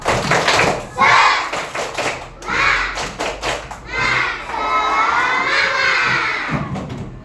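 Schoolchildren in a classroom shout a rhythmic clapping chant together, loud bursts of voices punctuated by sharp claps and thumps in a patterned beat.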